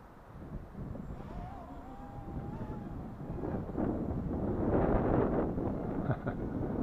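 Wind buffeting the microphone outdoors at a wet, muddy pool while a Hubsan drone flies on a windy day, a steady low rumble rising in strength, with a faint motor whine briefly audible.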